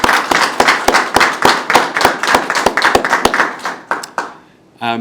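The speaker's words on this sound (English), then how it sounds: "So a round of applause, I think, for the teams is appropriate." Applause from an audience thanking the event teams: sparse, distinct claps in a steady rhythm that thin out and stop, with a brief voice at the very end.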